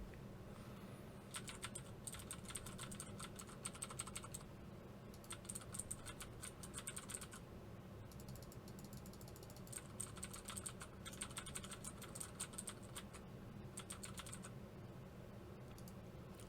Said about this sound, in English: let's see how much background noise and keyboard noise it'll pick up while you're playing a game.